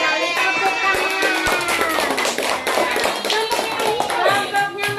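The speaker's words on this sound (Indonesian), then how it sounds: "Betul sekali, tepuk tangan." A group of people claps hands together in a bright, fairly loud burst, the claps quick and uneven, with some voices mixed in.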